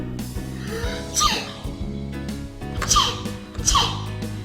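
Sharp sneezes from a dog with hair in its nose burst out three times over steady background music, each a quick noisy snort.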